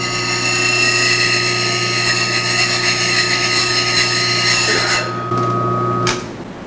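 Wood lathe turning a centered ring bowl, the tool's nose taking off the last quarter inch of material: a steady loud whirring drone with strong tonal hum that drops out near the end as the cut stops.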